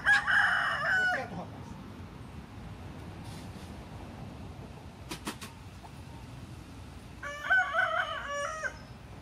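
A rooster crows loudly nearby at the start and again near the end, with soft chicken clucks and faint rustling in an outdoor yard between the crows.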